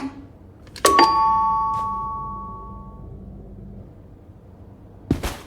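Doorbell rings once with a bright two-tone chime that decays slowly, followed after a few seconds of quiet by a sharp knock-like thump.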